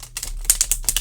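Glossy tarot cards being shuffled, a series of quick crisp riffling bursts with short pauses between them, close and moderately loud with no talking.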